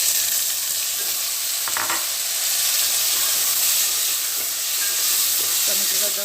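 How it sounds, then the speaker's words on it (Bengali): Tomatoes dropped into a pan of fried onions set up a steady, broad sizzle that stays close and even throughout, with faint clinks now and then and no talking. "এখন আমি এখানে দিয়ে দেবো টমেটো।"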